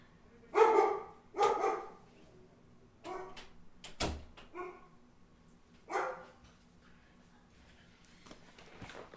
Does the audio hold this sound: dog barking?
yes